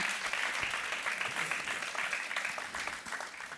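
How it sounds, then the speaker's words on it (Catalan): An audience claps steadily for a singer at a live stage show, the sustained applause fading slightly toward the end. "Un altre aplaudiment per ell, sisplau."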